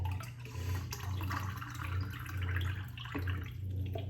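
Tap water runs steadily into a container at home, a continuous close splashing rush with a low hum underneath, no speech.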